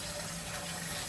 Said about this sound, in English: Throw some water in here.